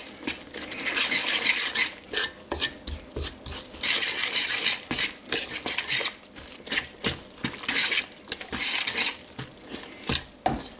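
Flour being stirred into jalapeno cheddar sourdough dough in a bowl, with close, irregular scraping and clinking of a utensil against the bowl in bursts.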